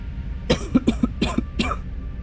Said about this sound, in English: I really do apologize for the coughing